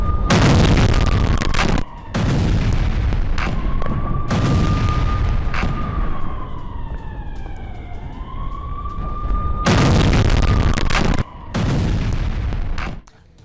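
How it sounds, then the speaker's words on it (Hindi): Explosions from an Israeli strike on Iran, a building set ablaze, with loud booming bursts recurring through the scene while a wailing siren rises and falls underneath. "धमाका और धमाके के बाद दहला पूरा शहर।"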